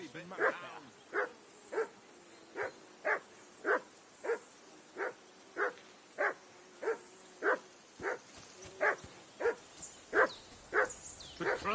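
A dog in the medieval video game Kingdom Come: Deliverance II barks steadily, with about twenty evenly spaced barks at moderate distance and little else behind them.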